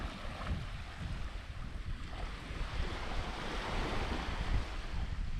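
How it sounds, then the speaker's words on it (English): Ocean surf rolls steadily near a sandy beach campsite set between dunes, a continuous broadband wash with wind buffeting the microphone and no talking. "The water sounds nice as well."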